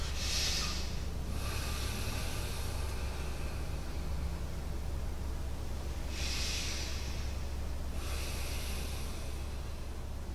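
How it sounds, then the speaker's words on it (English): Slow, deep breaths pushed out like a bellow during a relaxed room-painting practice, two pairs of long, airy, hissing exhales spaced several seconds apart, soft against a quiet, steady background. "you breathe like a bellow"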